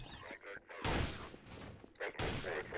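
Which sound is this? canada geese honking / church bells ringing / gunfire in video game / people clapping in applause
gunfire in video game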